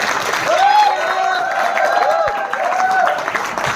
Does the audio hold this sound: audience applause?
yes